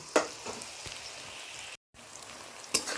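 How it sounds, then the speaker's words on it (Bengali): Onions frying in a pan for chicken curry give a soft, steady sizzle with a few sharp stirring clicks and spatters, heard close up with no talking and a brief gap of silence partway through. "পেঁয়াজটা দেখো ভাজা হয়ে গেল"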